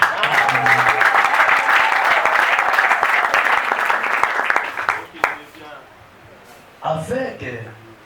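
A church congregation at an annual assembly breaks into loud, sustained applause and cheering for about five seconds, then it fades into scattered claps and murmurs, with a voice rising briefly near the end.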